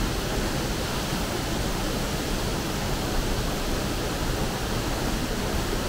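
Steady, loud broadband rush of a waterfall at South Mountain, North Carolina, filling the scene evenly with no pauses and no voices.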